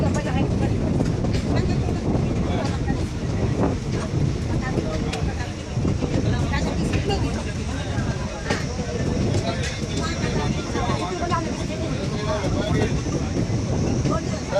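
An electric-line passenger train on the Parbhani–Jalna route runs through Dengli Pimpalgaon railway station without stopping, a loud continuous rumble with rattling wagons throughout, and a voice talking over it.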